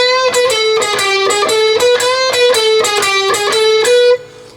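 An overdriven electric guitar plays a quick run of picked notes with bends, steady and close, ending abruptly.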